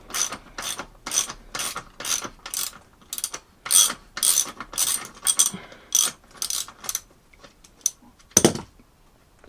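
A ratchet clicks rapidly while tightening the wheel on a pit bike in a garage, bursts of rhythmic close-up ratcheting strokes with brief pauses, then a sharper clank near the end.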